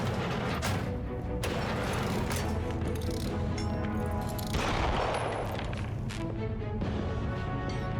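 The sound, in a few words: gunshots in the video game Cyberpunk 2077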